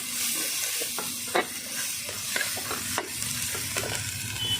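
A paste of ground chili, garlic, ginger and cumin is stir-fried in a pan, giving a continuous sizzle with irregular spatula scrapes and a couple of sharper knocks against the metal, close up and without speech.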